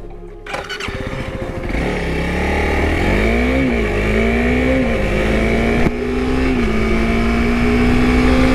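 A Honda CRF300L in supermoto trim rides along a wet road, its engine note climbing steadily through the gears under a constant wash of wind and tyre noise, close and loud with no talk.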